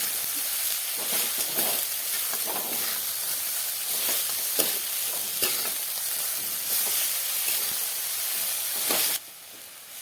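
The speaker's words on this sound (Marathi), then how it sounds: "तर आता यामध्ये आता आपण भाजी घालूया. आणि आता हे छान परतूया." Dill greens sauté in a hot pan with lentils, giving a steady hissing sizzle broken by repeated stirring scrapes, close and loud, before it drops to a quieter hiss near the end.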